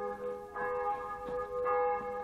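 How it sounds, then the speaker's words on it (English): Church bells ring steadily in the distance outside while someone gets into a new Mercedes B-Class car, sustained tones with soft repeated strikes, moderately faint and with no talking over them. "the bells are going to keep me from telling you anything"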